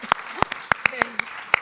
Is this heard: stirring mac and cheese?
no